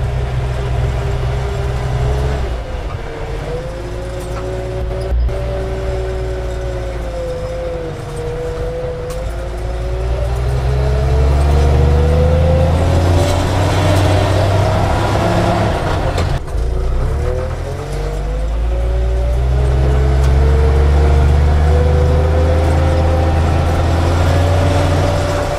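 Engine of a Volvo TL 22 military vehicle revving while changing down through the gears, a loud steady diesel drone with rising and falling pitch and brief shifts, no speech.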